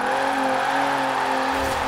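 Alfa Romeo Stelvio Quadrifoglio revving hard in Forza Horizon, a steady loud engine drone held at high revs throughout, close and continuous, with no voices.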